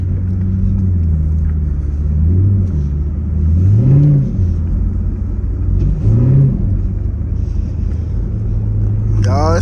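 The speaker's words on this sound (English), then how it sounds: "Y'all, it sounds good for a little V8." Small V8 car engine at a car meet with a two-step flame competition, a loud rumbling idle that rises in two sharp revs and burbles back down, with people talking nearby.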